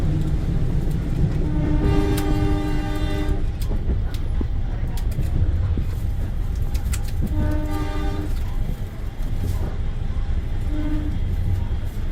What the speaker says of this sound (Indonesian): sudah berangkat lagi dari stasiun Cipendei